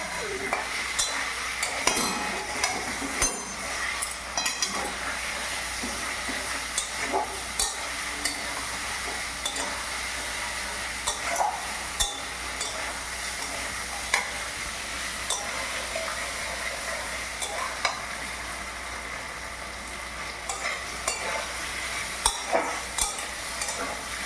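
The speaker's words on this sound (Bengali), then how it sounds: "এই যে মশলাটা যতক্ষণ না তেল ছাড়বে ততক্ষণ এটা ভালো করে নাড়তে হবে" Spices fry in oil while a spoon stirs them around a pan for Bengali-style fish head mung dal, a continuous sizzle laced with frequent scraping clinks and taps of utensil on metal, close and steady throughout.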